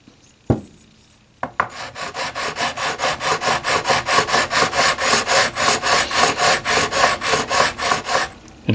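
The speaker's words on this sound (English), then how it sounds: "I'll do some of this understring leveling. This is 220 grit." Sandpaper of 220 grit rubs across a guitar fretboard during understring leveling, a close, even rasp of quick back-and-forth strokes in a steady rhythm after a couple of bumps at the start.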